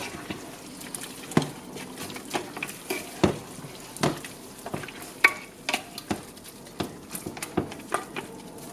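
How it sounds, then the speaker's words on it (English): Ayamase (Ofada designer stew) gets stirred in a pot, a spoon scraping and clacking in irregular bursts over a soft sizzle, close and fairly quiet. "stir it all up."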